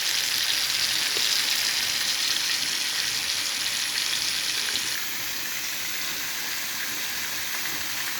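Chicken pieces for a roast fry in soybean oil with a loud, unbroken sizzling hiss that eases slightly partway through, close up and with no voices.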